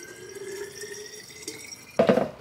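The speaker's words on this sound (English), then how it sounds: "Just need to fill up my new water bottle." Tap water runs steadily into a new chili bottle water bottle, a soft stream that ends in a brief louder splash and gurgle as the flow changes near the end.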